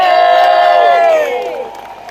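A rally crowd bursts into loud cheering, whoops and applause all at once, the roar sustained near and full before tapering off toward the end.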